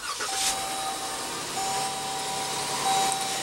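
A 2015 Dodge Durango Limited with the base 3.6-liter V6 idles with a steady, low, even hum that holds at a constant level throughout, with no voices over it.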